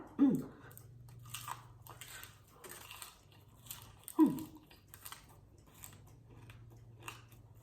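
Crispy deep-fried fish bones are bitten and chewed, producing repeated close crunches and crackles in irregular bursts, with two stronger bites standing out, and no talk.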